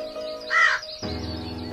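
A cartoon crow gives a single harsh caw, loud and close, over a steady tonal background that swells after it.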